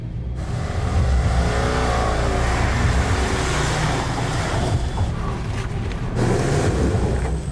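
A vehicle straining and revving as its wheels spin in churned jungle mud during a storm, a loud continuous engine roar with rising pitch sweeps and a brief dip near the end.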